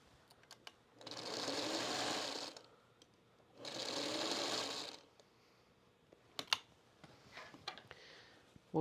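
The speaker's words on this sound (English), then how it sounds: "So I'm going to go back over it, backstitch a little bit." A sewing machine backstitches over a pillowcase seam in two steady running bursts of about a second and a half each, with soft mechanical clicks and handling noises in the pauses between and after.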